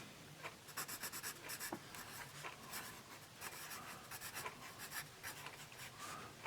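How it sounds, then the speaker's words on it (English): A Musgrave Harvest No. 2 pencil writing on paper, close and quiet, with bursts of scratchy graphite strokes in short irregular rhythms and small pauses between words. "So we'll do a little writing here."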